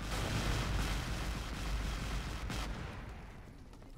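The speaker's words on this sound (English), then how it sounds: "I'm waiting for the Mörser to fire." Heavy Mörser siege gun in the strategy game Men of War firing, a loud, sustained booming rumble that fades slightly toward the end, with no voices.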